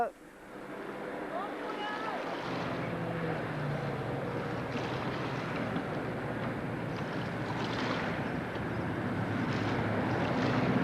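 Two 9.9 horsepower Yamaha four-stroke outboard motors drone steadily throughout on a newly built boat's first sea trial, a continuous mid-range engine hum mixed with water and wind noise, with a brief voice at the start.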